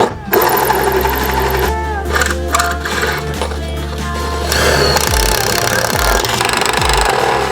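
A power drill whirs loudly and steadily while drilling from inside a Lexus IS300, its motor pitch shifting and dipping near the end as it bites and slows, with rattling mechanical noise.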